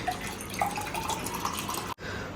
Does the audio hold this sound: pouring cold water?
yes